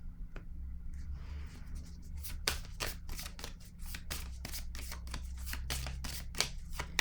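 Tarot-style cards are shuffled and drawn during a reading, a run of sharp, close flicks and slaps repeating in quick rhythm over a low steady background hum.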